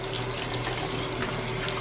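Water runs steadily from a tap, rinsing down a surface just scrubbed with a cleaning product, a continuous close hiss with no pauses.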